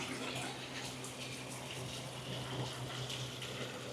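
A tiered garden water fountain, a quad stack with an acorn topper, splashes and gushes steadily with continuous falling water, close and moderately quiet, with no speech.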